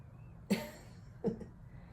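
Two short, rough throat-clearing hacks, like hawking up phlegm, close by, separated by a brief pause in a quiet room.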